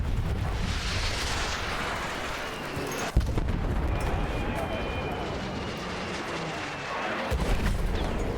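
Mortars in Battlefield 1 fire amid a rumbling battlefield din, with one sharp launch thump standing out over continuous low booming and distant blasts, while a voice talks over it.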